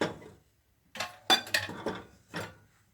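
A spoon scrapes and clinks against a pot while stirring roux, several brief separate knocks and scrapes close by in a quiet kitchen.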